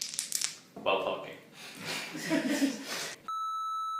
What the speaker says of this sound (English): You just put a beep before you said that comment.